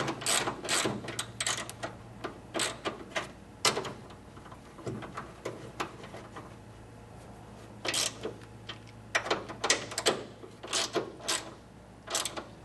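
Hand ratchet tightening bolts during a Ford Mustang coil spring installation, bursts of quick clicking pawl strokes with pauses and clanks between, close and fairly quiet, no talking.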